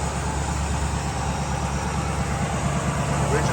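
A 1964 Ford Ranchero's 292 V8, bored up from a 260, idles smoothly and steadily, a loud, close, even rumble with no breaks throughout.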